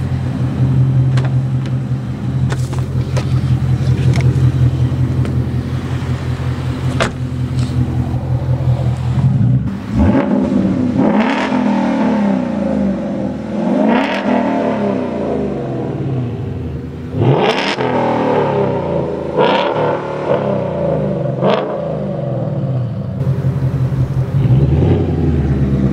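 Loud Ford Mustang GT V8 revving hard in neutral outdoors, with repeated sharp throttle blips climbing to its limiter over a steady heavy idle rumble, close to the microphone.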